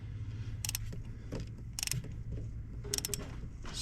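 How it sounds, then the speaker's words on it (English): A ratchet works a spark plug loose on a 2005 Ford F-150 with a blown plug, giving a few short, close bursts of quick clicking over a low background hum. "Let's get a ratchet on here"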